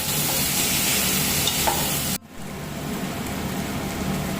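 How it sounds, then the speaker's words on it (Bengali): Fried potatoes and pointed gourd are tossed into a spice paste in a hot pan, giving a dense, steady sizzle. It cuts out abruptly for a moment partway through and then resumes at a slightly lower level, with no voices. "ভেজে রাখা আলু আর পটলগুলো এভাবে ছেড়ে দেবো দিয়ে মশলার সঙ্গে ভালো করে মিশিয়ে"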